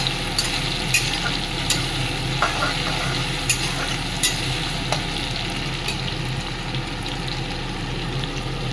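Whole cumin seeds and bay leaf frying in hot oil for a prawn and banana flower dish, a dense continuous sizzle with regular light scraping stirs of a spoon, close and without speech.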